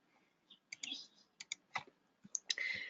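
Typing a formula on a computer keyboard during an Office 365 spreadsheet demonstration: scattered, irregular clicks and clacks of keys, some in quick pairs, fairly close and moderately quiet, ending in a short burst of denser key noise.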